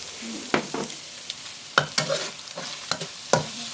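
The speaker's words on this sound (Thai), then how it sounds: "ผัดให้ไข่มันสวย" Egg for pad see ew sizzles in a wok while a metal spatula strikes and scrapes it in irregular quick clacks, close and busy over a steady frying hiss, with no voices.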